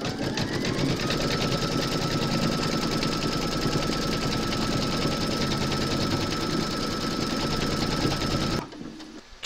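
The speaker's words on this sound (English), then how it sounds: "pop your hoop into your machine and stitch round number 3 to secure them" Embroidery machine stitching an appliqué placement round in one long, continuous, rapid mechanical hum with fast needle rhythm, close and loud, stopping abruptly near the end.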